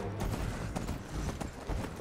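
A horse's hooves clip-clop in the Skyrim video game, a rapid rhythmic trot of muffled thuds, close and steady over a low background with no talk.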